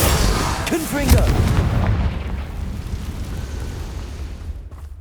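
Confringo fire spell explosions in Hogwarts Legacy: a heavy booming blast with a crackling burst up front, then a rumbling, fading tail, with a voice heard partway through.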